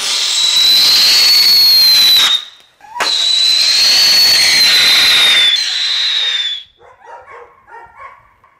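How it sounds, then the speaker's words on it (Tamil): A Diwali train firecracker goes off nearby, letting out two long, loud whistling shrieks over a rushing hiss, then a short run of faint crackling pops. "இப்போ வந்து நம்ம ட்ரெயின் வெடி வைக்க போகிறோம்."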